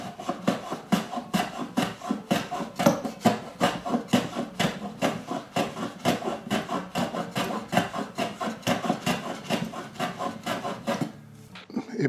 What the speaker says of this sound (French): je vais donner quelques coups de rabot pour mettre ça à niveau